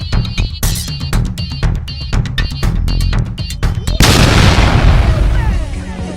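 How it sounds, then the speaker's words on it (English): A cartoon bomb goes off in a McDonald's in an animated short: rapid percussive bursts and pops are followed by one big booming blast that rolls into a long, loud rumbling decay. "I will put a bomb in this McDonald's, so you probably can get defeated."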